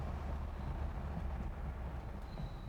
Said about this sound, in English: Hitting the brakes, hands off the wheel.